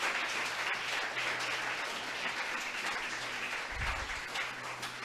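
Church congregation applauding during a sermon, a thick continuous roar of many hands clapping at close range, steady and loud for several seconds, with a brief low thump near the end.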